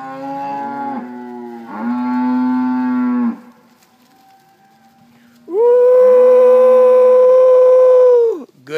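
F1 crossbred cows moo loudly nearby, two drawn-out lowing calls followed by a longer, deeper bellow after a brief quiet pause.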